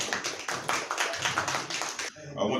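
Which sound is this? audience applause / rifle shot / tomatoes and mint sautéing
audience applause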